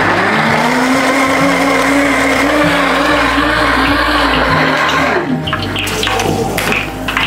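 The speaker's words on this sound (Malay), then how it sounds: "Kita kisar macam biasa ya puan," Kitchen blender grinding red chili, shrimp paste and bird's eye chili, a loud steady whirring roar that shifts pitch partway through as the load changes, running continuously with no talk.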